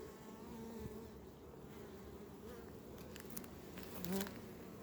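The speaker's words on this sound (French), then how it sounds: "Il y a pas mal d'abeilles qui font la danse là." Honeybees buzzing at an open hive during colony inspection, a dense steady hum of many bees close by with occasional louder passes near the end.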